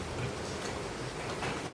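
Mackerel fish curry bubbling in a pot on the stove: a steady, dense crackle of boiling, like light rain, continuing evenly for under two seconds with no talking.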